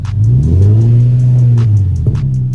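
An Infiniti G37 engine fitted with a short ram intake revs loud and close, a steady deep drone that climbs and holds before dipping and rising again near the end.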